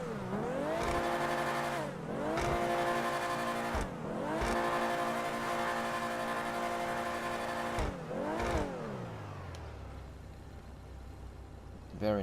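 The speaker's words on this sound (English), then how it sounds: "Sounds good as well. It sounds a bit like the Spectre, but slightly higher level." Dewbauchee Vagner supercar engine in GTA revving repeatedly in rising, falling sweeps, loud and close, with a few sharp blips before settling into a lower idle at the end.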